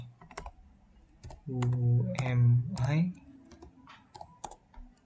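Short bursts of computer keyboard clicks come as a command is typed into a terminal, crisp and close, before and after a stretch of someone talking.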